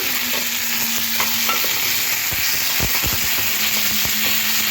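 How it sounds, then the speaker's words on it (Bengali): Vegetables and turmeric powder stir-fried in a pan for a Bengali fish curry with ridge gourd, potato and pointed gourd, giving a steady sizzle with a spoon scraping and clacking against the pan several times, close and fairly loud, no talking. "আর দিয়ে দেবো 1/2 চামচ মতো হলুদ গুঁড়ো।"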